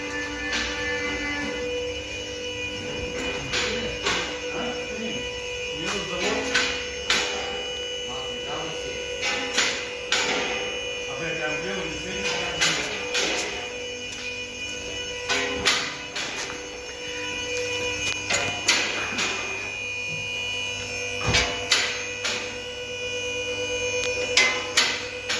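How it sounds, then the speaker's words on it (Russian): Irregular sharp knocks come from the suspension of a Nissan Leaf while its wheels turn, repeating over a steady mechanical hum. "Сейчас посмотрим, что за стук у нас был."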